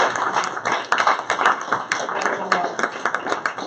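An audience at an industry panel event applauds a guest, a dense patter of many hands clapping at close range for a few seconds.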